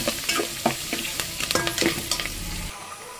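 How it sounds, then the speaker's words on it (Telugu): Tempering spices fry in hot oil with a pinch of turmeric, crackling and popping densely and loudly in quick bursts before cutting off abruptly. "పోపు అయితే వేగిపోయిందనమాట"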